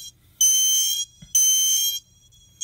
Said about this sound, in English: The reason why the horn sounds weird is because the color LED is controlling the current